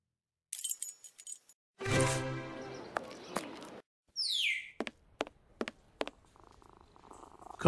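A cat purrs in a Sherlock Holmes video game, set amid other game sounds: short sharp clicks, brief chirpy tones and bursts of noise come and go across the scene, with the purring in a sustained stretch near the middle.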